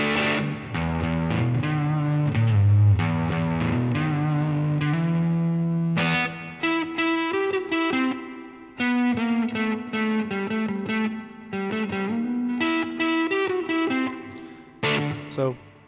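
Electric guitar played through a BC108 transistor fuzz pedal clone built on veroboard, giving thick, saturated distorted chords and riffs with sustained notes, loud and continuous with brief gaps.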